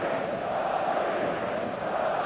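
A stadium crowd in the eFootball mobile game roars as a steady dense wash of massed voices, loud and unbroken.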